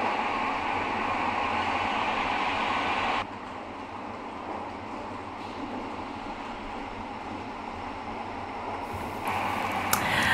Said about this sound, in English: this bimodal train arriving in Yes. Swansea. So I think it's just arrived.